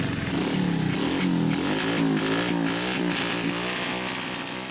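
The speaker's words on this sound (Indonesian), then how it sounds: "langsung dinyalakan petugas agar pemiliknya mendengar kebisingan yang ditimbulkan dari penggunaan knalpot tidak standar ini" A motorcycle with a non-standard aftermarket exhaust revs loudly and raggedly at a police noise check, its harsh exhaust roar rising and falling close by.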